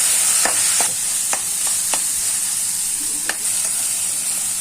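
Food stirred in a sizzling pan with garlic, with steady frying hiss and several sharp scraping strokes of a spoon against the pan.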